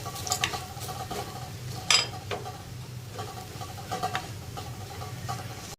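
A spoon stirs coriander powder into a simmering pearlspot fish masala curry, with soft scraping and occasional clinks against the pan over a low steady kitchen hum, close and fairly quiet.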